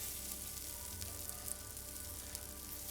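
An omelette toast fries in a pan over a low flame, giving a soft, steady sizzle with faint crackles throughout, quiet and close, with no voices.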